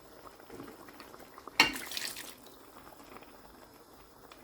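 A cup of water poured into a pan of browning chicken makes a sudden loud splash and hiss, then settles into a soft, low bubbling simmer.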